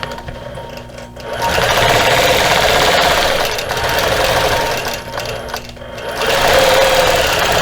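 A sewing machine quilts a cactus basket wall hanging in a steady, loud whirring run that dips briefly twice before picking back up, with no talk over it.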